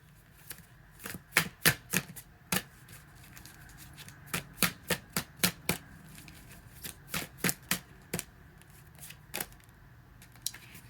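Tarot cards are shuffled by hand in quick, sharp riffling bursts, sometimes in rapid clusters and sometimes alone, close and fairly crisp over a quiet background without talk.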